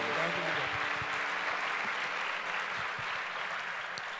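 A church congregation applauds at a Wednesday evening service, moderately quiet clapping that gradually thins, with faint voices mixed in.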